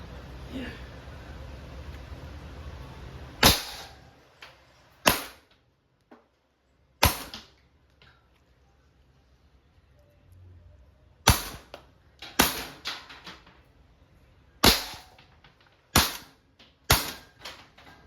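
About ten sharp, loud shots from a CO2-powered Umarex T4E Walther PPQ M2 .43 rubber ball pistol ring out at irregular intervals from 3 meters, separated by quiet stretches with faint background noise.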